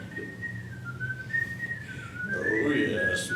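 A performer on a stage in a Pirates of Penzance production whistles a sustained, wavering tune, clear and moderately close, over faint background murmur.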